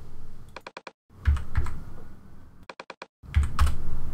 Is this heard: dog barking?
no